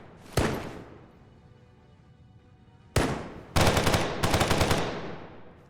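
Gunfire in a Fallout 4 fight against synths: a single sharp shot, then after a pause another shot followed by two loud rapid automatic bursts, close and with no talk over it.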